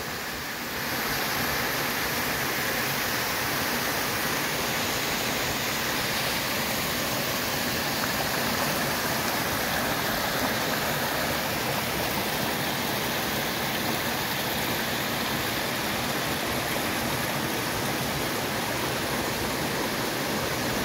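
Ripley Falls, a waterfall beside the Appalachian Trail in New Hampshire, gives a continuous broadband rush of falling water, steady and unchanging throughout, with no voices.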